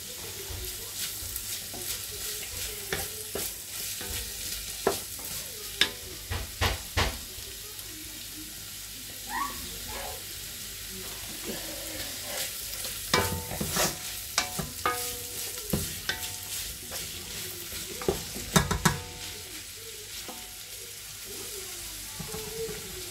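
Bolognese sauce is stirred in a frying pan, a steady sizzle running beneath scattered scraping and clinking of the utensil against the pan, with a few sharper knocks along the way.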